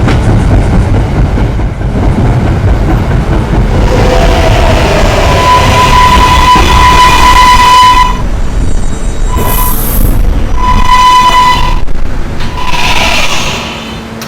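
An R143 subway train runs loudly and steadily, wheels rumbling on the rails, with a bright tonal whine rising partway through and short hissing bursts near the end.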